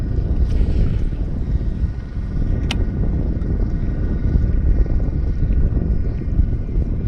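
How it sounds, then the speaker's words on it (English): Strong wind buffets the microphone aboard a boat at sea in Texas ahead of a hurricane, a continuous loud low rumble with gusty fluctuation and a brief sharp click midway. "I feel like the wind calmed down a little bit."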